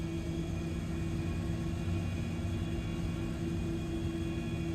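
Steady engine hum from an aeroplane taxiing in a flight simulator game, with a little power added: a constant low drone and rumble with faint high tones, continuous throughout and with no talk.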